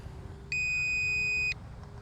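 Steady electronic beep from a handheld radio-control transmitter for an FMS 85 tiny Ranger plane with gyro, one continuous tone held about a second, loud over a low wind rumble outdoors.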